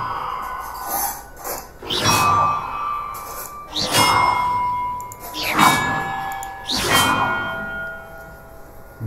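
Bells struck one at a time in a bell-ringing puzzle in Hogwarts Legacy, four clanging metallic strikes about two seconds apart, each ringing out and fading with bright lingering tones.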